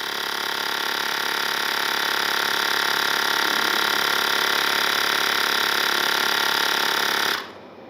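A Mi rechargeable compact tyre inflator runs with a steady, close, buzzing motor drone for about seven seconds. It then cuts off abruptly.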